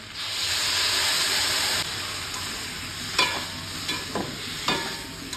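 Dal hits a hot pan and sizzles loudly, the hiss easing slightly after a couple of seconds while sharp stirring scrapes and clacks punctuate it several times.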